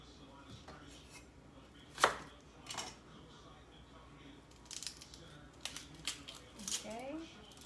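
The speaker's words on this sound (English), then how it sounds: "Peel the outer layer." Tough outer layer being peeled from a vegetable while cooking pork sinigang soup, giving sharp close snaps and tearing crackles at irregular intervals over a quiet kitchen background.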